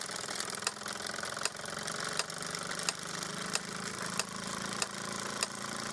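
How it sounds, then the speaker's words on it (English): A vintage Mamod SE2a toy steam engine, fired by fuel tablets, runs at a steady pace with a continuous mechanical whir. Regular sharp ticks or knocks come roughly every two-thirds of a second, close and moderately quiet, with no talk. "so let's set the engine off"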